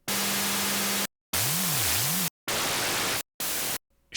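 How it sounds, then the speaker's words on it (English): Bursts of synthesized white noise like TV static from an Ableton Operator rack sound in four loud, hard-cut blocks with brief silent gaps, a low tone holding, then wobbling up and down beneath the hiss. "This one is made with Operator and is used for creating white noise similar to TV static."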